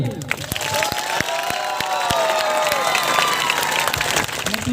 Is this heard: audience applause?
yes